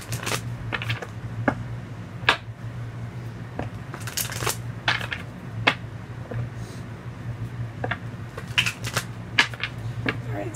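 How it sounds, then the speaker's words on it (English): Tarot cards shuffled by hand during a reading: a steady run of quick, close riffling clicks and soft card slaps in irregular bursts over a low constant hum, with no one speaking. "I'm going to get 5 shuffles."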